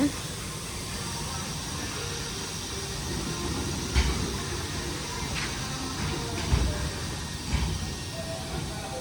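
A train stands idling at an Italian railway station, a steady hiss and low rumble with a few brief clanks and knocks, faint voices of people talking underneath.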